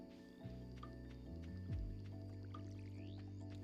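A watering can pours water in the video game Stardew Valley, giving a soft watery trickle and squish over about two seconds, quiet and layered over steady background game music.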